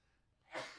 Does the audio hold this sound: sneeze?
yes